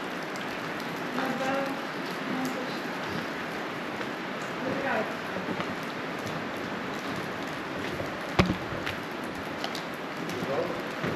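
Steady rain patters and drips inside a large empty abandoned prison, a broad wash of hiss with scattered drops and a brief sharp knock near the end.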